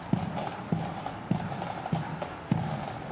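Horses of a mounted regiment march in the Anzac Day parade in Perth, their hooves striking the road in a steady, evenly spaced clip-clop, moderately close and without speech.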